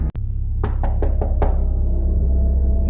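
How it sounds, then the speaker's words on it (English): Three slow, evenly spaced knocks on a door, sharp and close, heard over a low steady hum in an otherwise silent house. "Then came 3 slow knocks."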